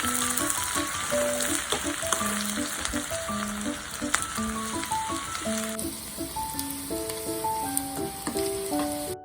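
Sliced onions and fenugreek seeds frying in oil in a pan for a Kerala-style beef curry, giving a steady, dense sizzle throughout with occasional stirring clatter, close up and with nobody talking.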